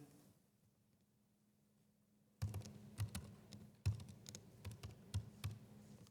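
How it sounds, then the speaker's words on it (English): Numbers are typed on a computer keyboard during a programming lecture. Quiet room tone comes first, then a run of sharp, close key clicks in an uneven rhythm, with a couple of harder strikes. "let me just type in a few numbers"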